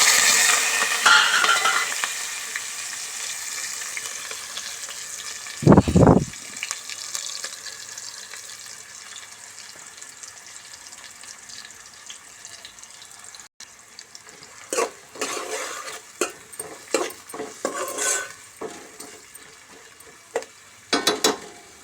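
Cumin and onions fry in oil in a pan with a soft, steady sizzle, broken by a few louder scraping stirs and clatters of a spoon against the pan, with no talking.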